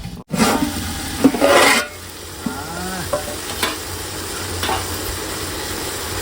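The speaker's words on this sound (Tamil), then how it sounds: "பத்து நிமிஷம் நல்லா வதங்கட்டும் அப்போ தான் அது மசாலா ஏறும் இந்த கறியில்" Meat frying with masala for biryani gets stirred in a pan, a burst of loud scraping and sizzle up front, then a quieter steady fry with occasional spoon scrapes and clicks.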